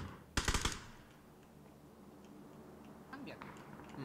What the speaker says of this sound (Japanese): 制圧射撃。